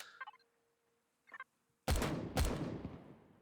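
A cannon fires in the video game Empyrion Reforged Eden, two sharp booming shots about half a second apart with decaying tails, following a few faint chirps in an otherwise quiet scene.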